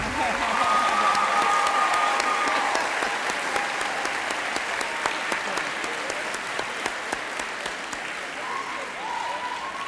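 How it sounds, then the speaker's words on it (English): At a school convocation, a large audience breaks into steady, sustained applause that holds for about ten seconds, with faint voices mixed in. "Let's give her a big, big hand of applause."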